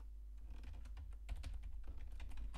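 Quiet, rapid typing on a computer keyboard, with steady runs of soft keystroke clicks close by.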